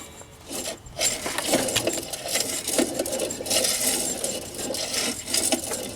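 A failing alternator and worn bearing on a Jeep's belt drive, with an idler pulley, produce a continuous gritty whirring rattle with irregular scraping surges, close and fairly loud, running almost unbroken after a brief dip.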